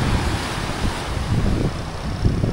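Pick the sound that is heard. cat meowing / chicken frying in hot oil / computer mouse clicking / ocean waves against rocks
ocean waves against rocks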